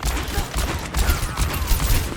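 Rapid gunfire in a first-person shooter aim-training session, a dense burst of repeated shots firing continuously at close range without pause.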